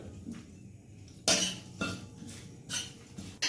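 Whole cumin and dried red chillies are stirred in a hot dry pan, with a spatula scraping and clinking in several separate strokes, close and moderately loud against near silence.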